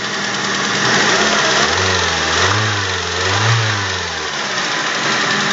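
A car engine that has sat unused for a long time starts and is revved, a loud close mechanical drone rising and falling through a couple of throttle blips before settling, with no talking.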